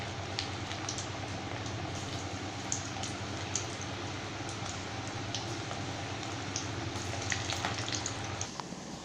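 Raw banana pakoda batter frying in oil makes a continuous soft bubbling sizzle. Scattered faint crackles and pops rise from it at a moderate, steady level throughout.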